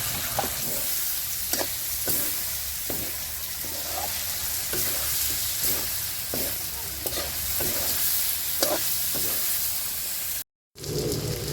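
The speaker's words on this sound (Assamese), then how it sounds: "এয়া পিঁয়াজ জলকীয়া দি দিম ইয়াতে আৰু অলপমান লাৰি দিম" Onion and chilli sizzle in a hot pan for a chicken curry, with a spatula scraping through them in a slow, regular rhythm of about one stroke per second over a constant frying hiss. There is a brief dropout near the end.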